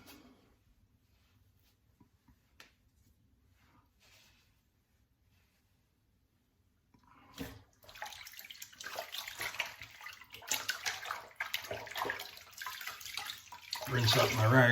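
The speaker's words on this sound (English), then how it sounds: "Rinse up my rag here, get all that shave cream off." Tap water runs steadily over a cloth rag as shave cream is rinsed out at a sink. Quiet handling comes first, then the water rises to a continuous, fairly close splashing rush.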